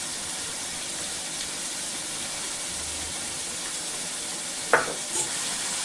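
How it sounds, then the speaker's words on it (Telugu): Onions with salt cooking in a pan, a faint steady sizzle and hiss with a single sharper stirring scrape near the end, no voices. "ఒకసారి గడిచిపెట్టి ఇలా తిప్పి ఇందులో ఉప్పు వేయడం వల్ల ఉల్లిపాయలు తొందరగా మగ్గుతాయండి"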